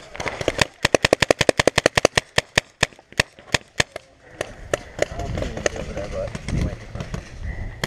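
Paintball guns fire in a rapid burst of sharp cracks, roughly twenty shots in quick succession that slow to scattered single shots, with voices talking over the later part.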